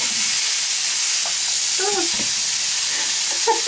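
Onions fry in a pan next to sausage meat, giving a dense, steady high sizzle close by, with a few brief clinks and bumps from stirring partway through.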